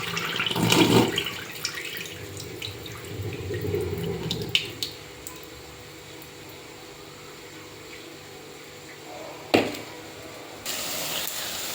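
Washing water is poured out of a bowl in a home kitchen: a short splash at the start, a softer draining trickle, then another brief splash near the end.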